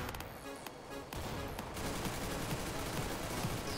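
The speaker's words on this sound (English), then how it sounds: "One guy shot this window out." Gunfire in Counter-Strike: Global Offensive, a rapid burst of repeated shots at moderate volume, sustained across the moment with no talk.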